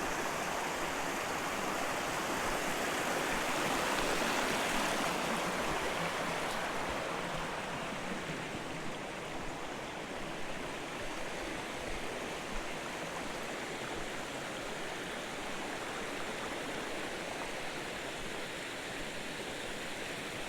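A river rushes and splashes near the Cascade des Tufs outside Arbois in the Jura, a steady, dense roar of flowing water that holds constant throughout with no voices.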